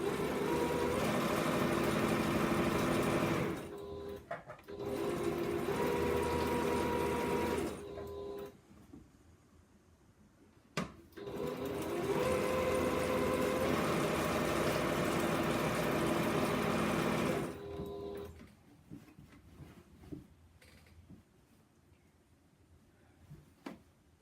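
Sewing machine stitching a border onto a quilt top, running in long steady whirring bursts of several seconds each, separated by brief stops and quiet pauses, close and alone.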